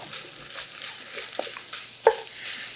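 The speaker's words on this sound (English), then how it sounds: "Joe's working on getting all that chorizo nice and coated with the flour." Browned chorizo being stirred with flour in a pan gives a soft sizzle with a few scraping spoon strokes and one sharper knock near the end.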